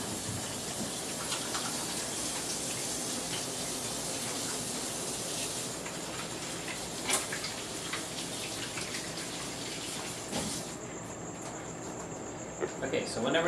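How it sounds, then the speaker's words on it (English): Tap water running steadily while hands are washed after handling raw chicken in a home kitchen, a continuous hiss of flowing water with small splashes that fades near the end. "Let me go ahead and wash my hands here, because I just touched some raw meat."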